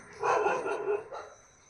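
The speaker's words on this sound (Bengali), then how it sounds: "কুকুরে ডাকছে?" A single dog barks close by in a couple of sharp, loud yelping bursts, the second shorter and softer, over a quiet background.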